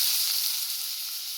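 Mustard seeds and curry leaves sizzle in hot oil for papaya thoran, a close, even hiss that fades slightly over a brief moment.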